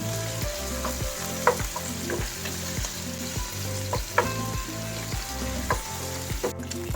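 Pork and chicken sauté in a hot pan for pancit canton with a steady, close sizzle, broken by regular scraping stirs about every half second and no voices.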